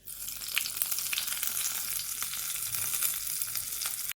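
A hot mustard seed tempering hisses and crackles loudly and steadily as it is poured into bitter gourd pakoda kootu, close up for about four seconds before it cuts off abruptly.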